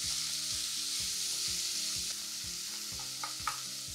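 Chopped onions sizzling as they fry in a pan of oil with crisp fried ingredients, a steady close hiss broken by regular scraping knocks of stirring.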